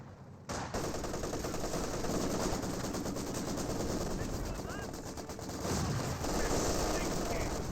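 MG42 machine gun fire in Company of Heroes 2, sustained rapid rattling bursts amid a dense, continuous battle din, with a voice talking over it.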